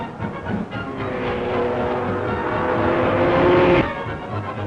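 1930s race car cornering through the banked concrete carousel at the Nürburgring, a sustained, loud engine drone that builds steadily and then drops off abruptly near the end, heard alone.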